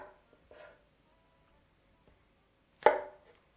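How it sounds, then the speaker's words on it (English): A knife chops mushrooms into chunks on a cutting board, with a couple of soft knocks early on and one sharper, louder chop near the end amid otherwise quiet. "Cut them into chunks"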